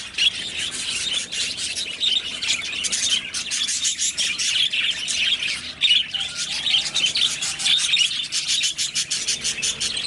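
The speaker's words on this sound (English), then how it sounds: "I have to come over here, the birds get excited." Many birds chirp and tweet continuously, a busy, overlapping chorus of high calls with occasional squawks.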